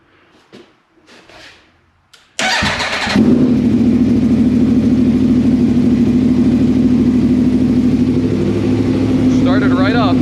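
An Aprilia Tuono V4 motorcycle cranks and fires after a few quiet seconds, then holds a loud, steady, throbbing idle up close.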